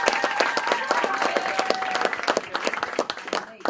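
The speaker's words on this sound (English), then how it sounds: "Can I get a round of applause?" Applause from a student audience at a university freshman showcase, crisp close hand claps in a brisk burst that thins out toward the end.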